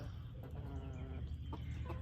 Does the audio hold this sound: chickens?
yes